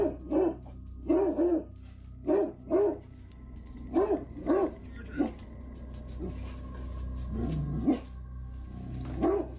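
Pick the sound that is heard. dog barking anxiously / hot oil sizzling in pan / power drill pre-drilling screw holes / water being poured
dog barking anxiously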